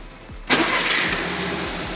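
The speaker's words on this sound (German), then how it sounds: "Starten wir mal den Motor." A car engine cranks briefly and catches with a sudden loud burst, then settles into a steady, close idle that runs on alone without any talk.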